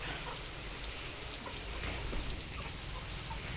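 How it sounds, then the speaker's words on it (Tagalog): Rain from a typhoon falls steadily in a dense, hissing patter, with scattered sharper drops landing on nearby surfaces, continuous and fairly close. "Maulan pa rin"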